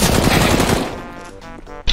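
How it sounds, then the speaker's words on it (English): Gunfire in the video game Counter-Strike: Global Offensive, a loud dense burst of rapid shots over the first second that tails off into quieter game sounds, with one sharp report at the very end. "Look at that lucky shot."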